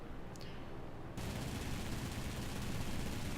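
Bomber gunners in War Thunder open fire in a dense, rapid burst of gunshots that starts abruptly and roars continuously, loud and close, with no talking.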